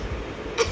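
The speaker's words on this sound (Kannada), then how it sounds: "ನನಗೂ ಕೆಮ್ಮು" A single short cough close by in a quiet room, after a low background murmur.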